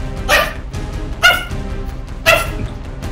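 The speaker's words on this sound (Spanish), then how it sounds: "¿Por qué estás ladrando tanto?" A dog barks three times at a steady pace, each bark loud and close, with a quiet indoor background between them and no talking.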